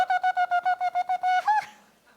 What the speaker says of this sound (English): The next one is blasts, the teruah, which means many blasts.